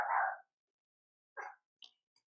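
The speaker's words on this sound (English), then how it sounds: "I don't know what Puffy is barking at, but he's yapping at something." A dog gives a few short barks and yaps from indoors, spaced apart with quiet gaps, the first loudest and the rest fainter.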